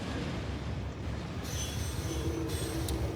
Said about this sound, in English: Oh, there's more trains coming.